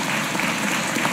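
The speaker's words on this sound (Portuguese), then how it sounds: "Peço também uma salva de palmas para Maria Lúcia, irmã do Sig, e José Carlos" A short stretch of dense, steady applause from a crowd at a formal honorary session, loud and continuous with no voices standing out.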